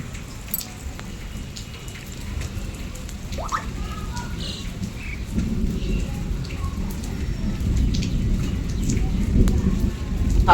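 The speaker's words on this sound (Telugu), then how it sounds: "వర్షం కూడా వస్తుంది, వర్షం కూడా కొంచెం తగ్గిందండి." Steady rain falls outdoors on a cool evening, a dense close patter that grows heavier and louder toward the end.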